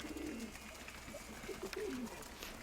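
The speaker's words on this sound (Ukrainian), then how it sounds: "Ванін голуб уже зайнявся ритуалом знайомства" A domestic pigeon coos in courtship, a few soft low throaty calls repeated in short phrases, faint and close.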